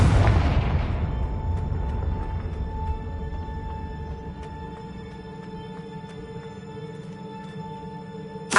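A Confringo spell blast from Hogwarts Legacy on PS5 bursts with a loud boom at the start, then decays into a long rumbling tail under steady tonal game music.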